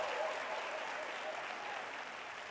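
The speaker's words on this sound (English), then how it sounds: "Clap it up if you're looking for a good time." Studio audience clapping at a gospel variety show, a steady wash of applause at fairly low level that slowly eases off over a couple of seconds.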